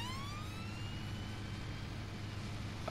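Police car siren in the Sandy Bay video game, a rising wail sweeping upward then holding steady over a constant low engine rumble, moderately loud and continuous with no talking.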